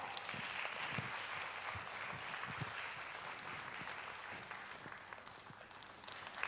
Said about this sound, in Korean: 열정의 박수를 보내드립니다